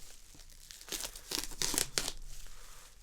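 Packaging for a Sony A7R IV-A camera being sliced open with a small blade, a close, steady scratchy tearing and crinkling that builds in the middle and trails off.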